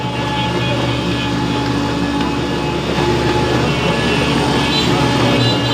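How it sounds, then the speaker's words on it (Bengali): A mustard oil expeller mill runs with a steady, loud mechanical drone, continuous tonal hum and rumble throughout with no pauses. "দেখেন আমাদের মিল এই যে চলতেছে"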